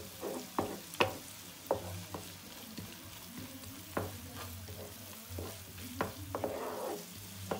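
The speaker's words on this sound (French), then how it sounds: "نخليه يتقلى غير واحد شويه." Prawns fry in a pan for a rice dish, a soft continuous sizzle punctuated by sharp clinks and scrapes of stirring at irregular intervals, close by with no talk.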